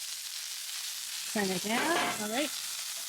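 Onions fry on a Traeger Flatrock griddle in an avocado oil blend, giving a steady close sizzle across the clip, with a short spoken exchange over it partway through.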